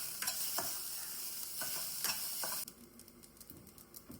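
Leftover dal being reheated and stirred in a pan, with a soft sizzle and a few clinks and scrapes of a spoon against the pan; the sizzle drops away midway, leaving quieter, sparse stirring sounds.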